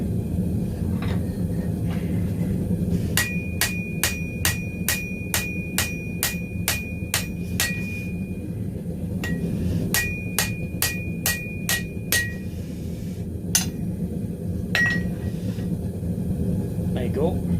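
A metal Viking frying pan is hammered in two quick runs of sharp, ringing blows, about ten strikes and then about six, close and loud over a low background rumble.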